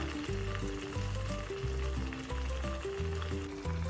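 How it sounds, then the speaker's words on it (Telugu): Sweet corn vadas sizzle and crackle steadily in hot oil over a medium flame, a dense continuous frying hiss with music playing underneath. "ఒక్కొక్కటిగా ఆయిల్లో వేసుకోవాలి మనము స్టవ్ అనేది మీడియం ఫ్లేమ్లో పెట్టుకొని ఈ గారెల్ని చేసుకోవాలి"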